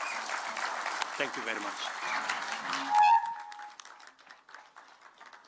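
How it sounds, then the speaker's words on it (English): An audience claps at the official opening of digital and AI skilling and green tech centres at Konza Technopolis, a fairly loud burst of applause mixed with a speaker talking, then fading out. "Another round of applause for His Excellency"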